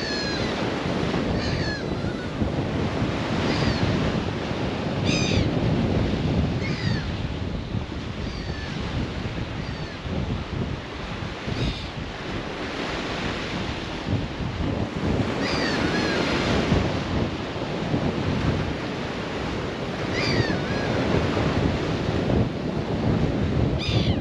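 Strong wind roars and buffets the microphone at the seashore, with surf washing below and gulls crying now and then, continuous and loud with no talk.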